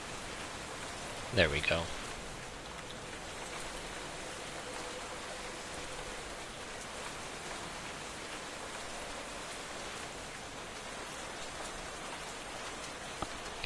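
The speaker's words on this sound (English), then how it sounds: "Kinda wish the rain would stop." Steady rain in Minecraft, a continuous even hiss that fills the scene from start to finish, with a brief louder burst near the start as a voice speaks over it.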